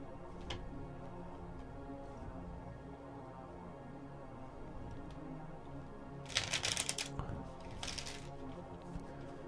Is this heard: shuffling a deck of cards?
yes